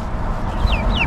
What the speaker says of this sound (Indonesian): Ada satu anak ayam yang keluar nih, keluar dari kandang.